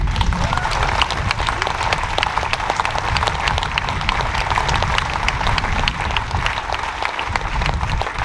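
A large crowd at a political rally applauds itself in sustained, dense clapping that stays loud and steady throughout, with a few voices mixed in.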